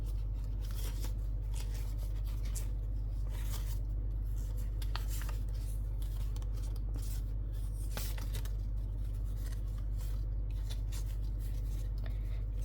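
Sheets of paper are creased and reverse-folded to form an origami fighter jet, giving soft, close crinkling and rubbing sounds in irregular bursts over a steady low background hum.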